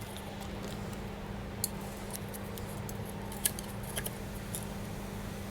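Scissors cutting PVC tape during push-fit plumbing work aboard a 27 ft Nauticus cruiser boat, a few faint sharp snips and clicks over a steady low hum, with no speech.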